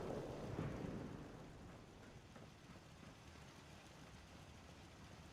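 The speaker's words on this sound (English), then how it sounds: "Stop it with these darn storms every 2 minutes." Thunder rumbles and rain falls during a storm in the game Fallout 4: a low rolling boom swells early, then fades into a steady quiet rain hiss, with no one talking.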